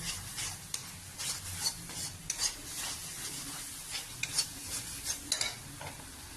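Spices and turmeric frying in a pan for a potato and peanut dum, with a steady sizzle broken by repeated scraping stirs of a spoon against the pan.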